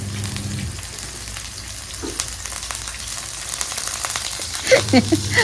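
Tempeh stir-frying in hot oil in a pan gives a continuous crackling sizzle, with a few louder clatters and stirring noises near the end.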